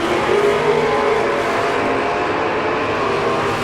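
An Oldsmobile F85 and a Camaro roar at close range during a drag race, a loud, dense, sustained engine rumble with no break.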